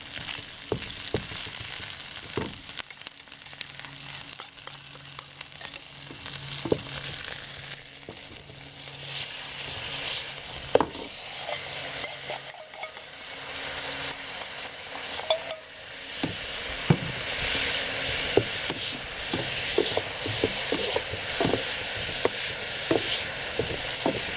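Shrimp stir-frying in a wok with black bean sauce: a steady, close sizzle broken by frequent sharp scrapes and clinks of a utensil against the pan, with no talking.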